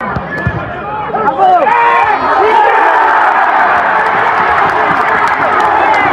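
Spectators in the stand at an English football match roar and cheer as the crowd gets going before half-time, building from scattered shouts to a loud, sustained swell of voices.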